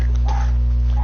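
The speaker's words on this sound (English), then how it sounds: "Sorry for the barking, my dog's not gonna stop." A dog barks and yips briefly nearby over a steady low electrical hum.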